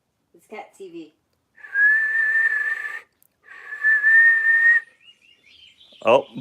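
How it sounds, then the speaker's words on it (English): Bird sounds play from a phone, two sustained, steady whistle-like tones with a short pause between, preceded and followed by brief talking nearby. "bird noises on Melissa's phone"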